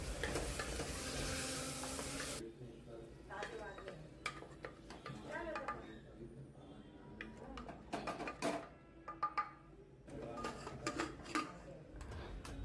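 Brinjal frying in oil in a pressure-cooker pan for a Khandeshi varan batti dish, with water poured in: a loud, dense sizzle for about two seconds, then softer hissing broken by clinks and scrapes of a utensil stirring against the metal.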